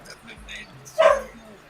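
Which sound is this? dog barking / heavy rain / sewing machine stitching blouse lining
dog barking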